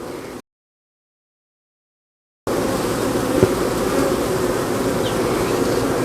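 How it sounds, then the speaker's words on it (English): Dense, steady buzzing of many honeybees close by at a hive, many carrying pollen, briefly cut to silence before the swarm drone resumes and continues unbroken. "there is a lot of bees with pollen on them"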